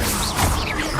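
Confringo blasting spell fired in Hogwarts Legacy, a dense, loud crackling burst that fills the whole second with a roaring, smashing blast and no pause.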